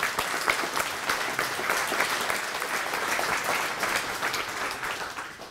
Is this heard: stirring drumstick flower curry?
no